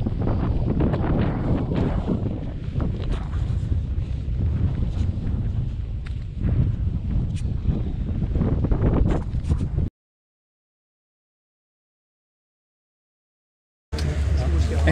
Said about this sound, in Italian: Si sta alzando un bel po' di vento.